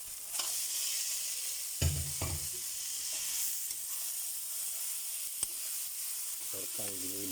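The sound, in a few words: sautéing ground meat in a pan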